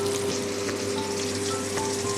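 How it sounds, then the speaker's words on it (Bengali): Hilsa fish coated in salt and turmeric frying in hot oil, a steady close crackling sizzle with occasional small pops, alone and unbroken. "ইলিশ মাছের নুন হলুদ মাখানো হয়ে গেছে, এবারে ভেজে দেবো।"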